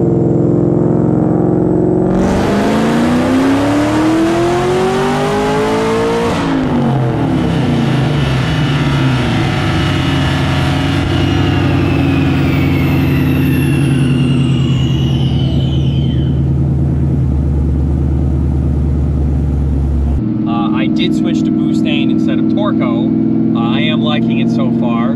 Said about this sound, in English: first time driving it since putting the lower pulley on